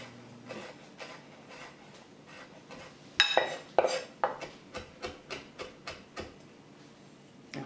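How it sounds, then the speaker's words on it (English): An ingredient for spicy Cajun shrimp being chopped with a knife on a board: a few loud clattering knocks, then a steady run of about ten evenly spaced chops, close and clear. "So I'll just chop it a bit."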